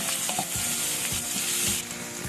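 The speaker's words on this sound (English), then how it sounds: "when it begins to splutter, I'm throwing in the onion. Give it a nice fry." Chopped onion frying with onion seeds in hot oil for paneer jalfrezi gives a loud, steady sizzle, with soft stirring scrapes breaking through now and then. No voices are heard.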